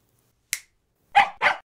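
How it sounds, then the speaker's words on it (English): A cute brown puppy gives three sharp, short barks, one alone and then two in quick succession, close and clear against silence. "How about a cute brown puppy?"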